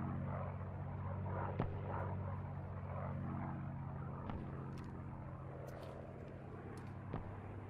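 Aircraft engines drone steadily in the Post Scriptum WWII game, a continuous low propeller hum holding at moderate level throughout, with a few brief sharp clicks and ticks scattered over the top.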